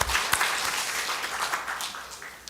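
A church congregation gives a short round of applause honoring fathers during a Sunday service, with a burst of clapping that rises at the start and then thins out and fades over a couple of seconds.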